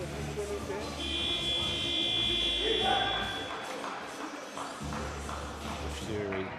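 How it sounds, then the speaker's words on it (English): A buzzer at a basketball cup final calls players back to the court, a sustained electronic tone under crowd noise and commentary, moderately loud and a few seconds long. "The buzzer to return the players to the court"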